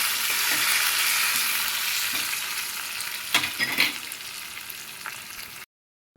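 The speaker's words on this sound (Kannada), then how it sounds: "ಶುಂಠಿ, ಕರಿಬೇವು ಎಲ್ಲ ಹಾಕಿ ನೀಟಾಗಿ ಇದು ಮಾಡ್ತಾರೆ." Ginger and curry leaves tempering in hot oil for kara pongal give a steady, loud hiss of sizzling with a few sharper crackles and stirring scrapes, then cut off abruptly near the end.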